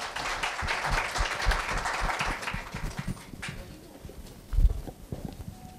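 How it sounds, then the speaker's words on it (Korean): An audience at a middle school speech contest claps to welcome a contestant; moderate, fairly steady applause that thins out and fades toward the end, with a couple of louder thumps. "큰 박수로 환영해 주시기 바랍니다."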